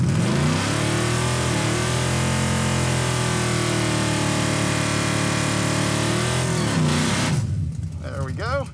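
Roadkill Garage Crop Duster drag car with its nitrous system engaged, engine revving loud and steady at the drag strip for about seven seconds before cutting off.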